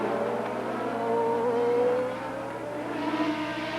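IndyCar race cars at Mid-Ohio in 1994 accelerate into the first turn, a dense roar of engines that swells and shifts in pitch as the field streams past, loud and continuous with no talk over it.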